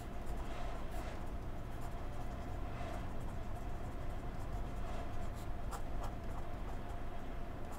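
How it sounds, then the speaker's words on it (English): Someone writes something down, producing quiet, scratchy strokes in short bursts over a low, steady room background, with no voices. "Let me write that down."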